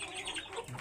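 Hill chickens cluck softly on a farm, a short, faint burst of low calls with a hint of wing movement.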